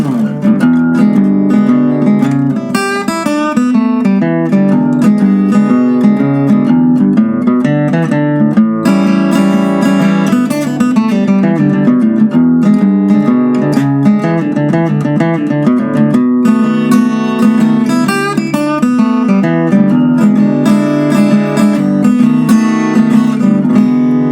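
Solo guitar plays continuously in a blues style, mixing low bass-line runs, strummed chords and melodic lead phrases, loud and up close.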